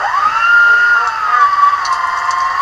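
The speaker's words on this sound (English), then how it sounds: "I put some in this grinder, this meat grinder right here. I'm gonna turn it on, show you." An electric meat grinder works through strips of chuck with a strong tonal motor whine that sags and wavers in pitch as the meat loads it, running continuously without speech.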